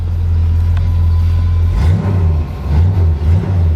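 A 1979 Chevrolet Corvette coupe with a 350 V8 and automatic transmission idles close by with a steady low rumble, then blips the throttle several times in rising and falling revs.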